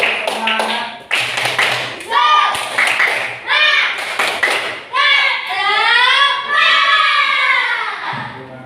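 A classroom of children performs a rhythmic spirit clap, crisp patterned bursts of clapping and tapping alternating with the teacher's and children's chanted voices, close and loud.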